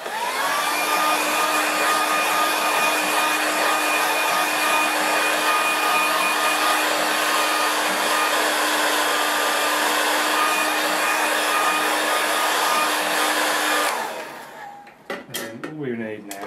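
A hair dryer drying a large watercolour landscape painting blows as a loud, steady whir with a constant tone for about fourteen seconds, then cuts off and leaves brief clatter behind.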